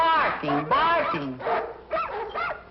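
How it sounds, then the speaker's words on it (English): Several dogs barking and yelping in quick, uneven bursts, close and loud, with some higher whiny yips mixed in. "All night long, those dogs barking."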